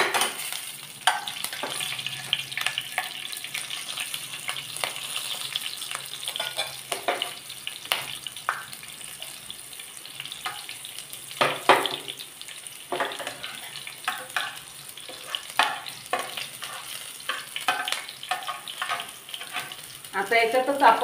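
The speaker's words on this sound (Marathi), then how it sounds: "आता तेल छान गरम झालेलं आहे, आता मी त्यात थोडे जिरे घालते।" Cumin seeds and green chilies sizzling in hot oil for sabudana khichdi, a continuous crackling fry close by with intermittent stirring scrapes and spatters throughout, no voices.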